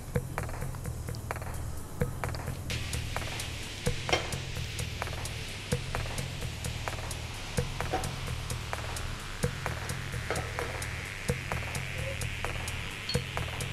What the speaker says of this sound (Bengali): ফ্রাই প্যানে সামান্য একটু সর্ষের তেল নিয়ে নিচ্ছি।